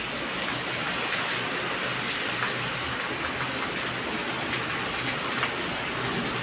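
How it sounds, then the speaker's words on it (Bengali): Heavy evening rain pours down in a dense, even hiss with scattered patters of drops on surfaces, steady and unbroken throughout. "এখন কি জোর বৃষ্টি হচ্ছে।"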